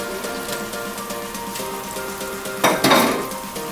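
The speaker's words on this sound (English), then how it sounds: "And now just mix them all up. Just cook it for about a minute or two." Eggplant stir-frying in garlic sauce in a pan, a steady close sizzle and crackle with a louder burst of frying and stirring near the end, no voices.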